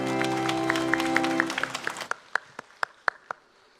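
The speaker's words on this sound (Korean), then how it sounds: "우리 성령님께 영광의 박수를." A church congregation's applause at a Sunday worship service breaks out as sustained music fades, settling into a few scattered, distinct claps that thin out and stop.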